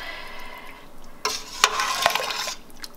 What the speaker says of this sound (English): let me just mix a little bit